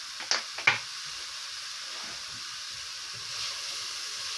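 Onion frying in a little oil and ghee in a cooking pot gives a soft, steady sizzle, preceded by a couple of sharp clicks and a clatter near the start.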